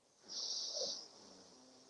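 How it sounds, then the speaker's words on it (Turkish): Slow nasal inhalation during a breathing exercise, a steady airy hiss that swells for about a second and then fades, close and fairly quiet, with no talk. "Burnunuzdan 4 saniye yayarak nefes alacaksınız."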